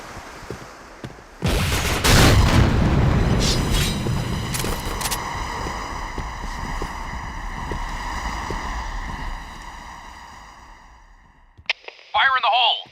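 A grenade blast in the shooter game Point Blank, a sudden loud boom followed by a long rumbling, fading roar, with a short voice shout at the very end.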